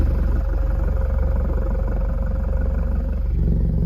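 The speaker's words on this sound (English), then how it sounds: "Here, I'm gonna stick my phone in the exhaust." A loud, steady exhaust rumble from a Subaru BRZ with an AWE Touring exhaust, held at a constant idle, deep and droning, recorded very close inside the exhaust with no other sounds.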